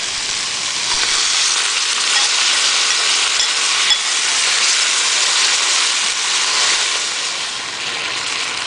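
Spicy shrimp stir fry with peppers sizzles loudly in a hot pan as sauce goes in, a dense, steady hiss filling the whole stretch at close range with no talking.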